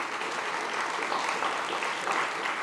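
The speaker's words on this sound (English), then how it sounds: "so please give him a round of applause" A room of attendees at a SXSW food gathering gives a round of applause for a musician. Dense, even clapping continues without pause for a few seconds, with no voices over it.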